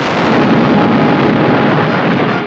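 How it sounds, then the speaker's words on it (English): An explosion sound effect from a 1940s Batman serial, a loud, sustained blast roar that fills the whole moment without talk. "Wasn't that an explosion?"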